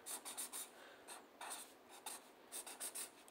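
Pen writing letters on paper at close range, quiet scratchy strokes in short bursts with brief pauses between words, heard alone.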